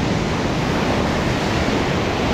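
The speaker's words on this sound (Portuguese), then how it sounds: "Bem forte. A onda, a onda." Strong ocean waves break on the shore at a fishing spot, a loud, continuous broadband roar of surf that fills the whole stretch with no gaps and no voices.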